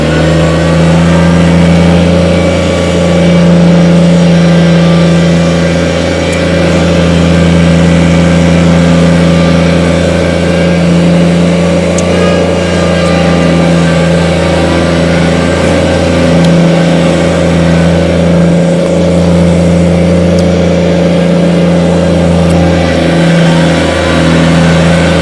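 A Kubota BX25D 23 hp diesel sub-compact tractor runs in high range, its engine holding a steady, loud, close drone with a few small dips in load and no talking.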